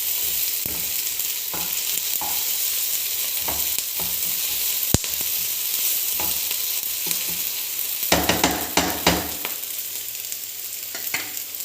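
Onions and spices are sautéed in a pan for a restaurant-style egg curry. A steady, soft frying sizzle runs throughout, broken by scattered clicks and scrapes of a spoon stirring against the pan.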